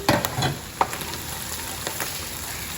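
Onions and mushrooms sizzle in butter in a pan, a steady crackling fry with a few brief spoon clinks near the start.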